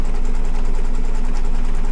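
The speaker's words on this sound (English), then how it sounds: "So I'm just going to watch and stitch it down." An embroidery machine stitches a quilt square, its steady, rapid mechanical chatter close and continuous with an even rhythmic pulse.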